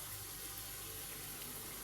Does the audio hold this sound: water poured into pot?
yes